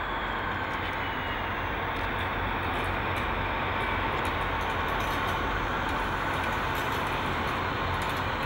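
Two DB class 218 diesel locomotives in tourist-train livery haul a train near Aachen, giving a steady, loud broadband rumble and roar that runs unbroken through the whole stretch.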